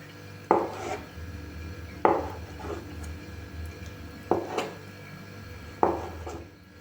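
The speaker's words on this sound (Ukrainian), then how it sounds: "Три яйця нарізаємо грубою соломкою." A knife chops three boiled eggs into coarse strips on a cutting board, four distinct sharp knocks spaced about a second and a half apart, close and clear with no talking.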